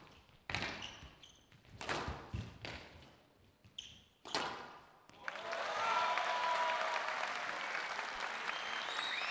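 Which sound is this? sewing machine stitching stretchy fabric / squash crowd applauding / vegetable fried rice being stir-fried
squash crowd applauding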